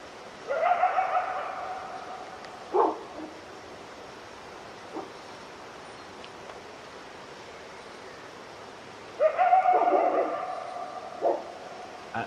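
A dog in the woods gives two bursts of barking and whining yelps several seconds apart, with a few single short yips between them, set against a quiet, hissing outdoor background.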